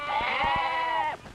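A single loud, close goat bleat holding steady for about a second before breaking off, with no talk around it.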